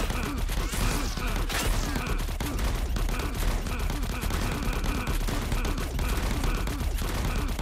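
Dense, continuous automatic gunfire from a dinosaur horror shooter hammers away nearby in a fast, unbroken rhythm, loud throughout with mechanical clatter mixed in.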